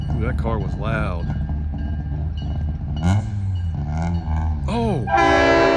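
A train led by a Norfolk & Western locomotive rumbles past a crossing while a person talks, and a loud, sustained horn blast comes in at the end.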